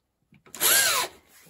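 A Parkside PBH 800 A1 hammer drill spins up sharply and runs loud and close for about half a second, whining with a rising-then-falling pitch before cutting off, leaving a faint fading rattle.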